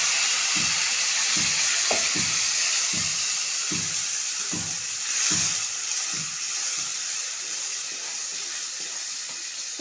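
Ground spice paste sizzles in hot oil with fried green chillies, a constant bright hiss broken by about a dozen soft, regular thuds of stirring, close and even.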